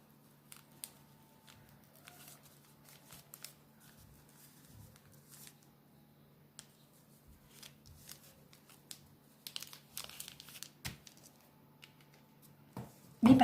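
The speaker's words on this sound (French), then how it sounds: "je prends le tissu et je coupe un autre" Scissors snip through fabric for a homemade protective face mask, with scattered soft cuts and rustles of cloth, quiet and close, growing busier toward the end, with no voices.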